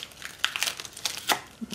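Wax paper crinkles and tears as it is peeled away from a cured part of a homemade water-cooled Briggs engine, a close series of crisp rustles and small rips in quick bursts.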